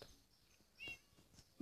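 A cat meows softly a couple of times at close range, with brief faint rustling between calls.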